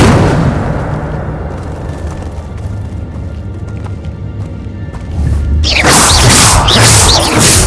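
An Incendio fire spell in Hogwarts Legacy bursts loudly after a stretch of quieter ambient rumble and scattered clicks, erupting into a sustained bright roaring crackle of flame that holds to the end.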